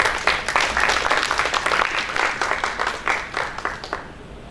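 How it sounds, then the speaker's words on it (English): An audience at an international materials and metallurgical engineering conference claps in a lively round of applause, individual claps audible within the dense patter, gradually thinning and fading out over a few seconds. "Please give a round of applause."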